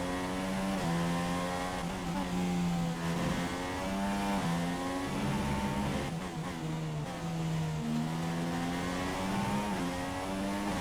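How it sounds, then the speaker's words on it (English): A Formula 1 car in the F1 2016 racing game revs hard on the final lap at Abu Dhabi, its steady high-pitched engine whine rising and falling through gear changes and corners, loud and continuous with no talk. "Put the car up into rich revs."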